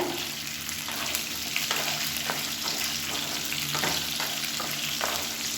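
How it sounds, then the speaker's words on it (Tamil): Tomatoes sautéing with onion and garlic in a pan for chutney, a steady, moderate sizzle with regular stirring scrapes and taps every second or so, no one talking. "இந்த தோலெல்லாம் நல்லா அப்படியே வதங்கி வர அளவுக்கு வதக்கி விட்டுக்கலாம்"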